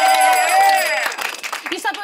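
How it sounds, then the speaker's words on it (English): Audience applause breaking out during a comedy game show's championship round, rising under a sustained voice and then giving way to scattered claps and crowd noise. "so big round of applause"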